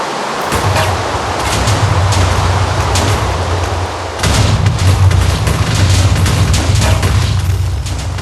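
A deep, sustained rumbling blast of TNT exploding in Minecraft fills the clip, with a brief dip near the middle before the booming roar resumes, loud throughout.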